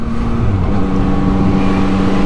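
A 2021 Yamaha MT-09 SP motorcycle engine revving as the throttle is twisted, a loud close steady rumbling roar with a rising tone partway through.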